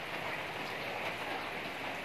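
Steady rain falls in a dense, even hiss with no distinct drops standing out, moderately loud and unbroken throughout, with no voices.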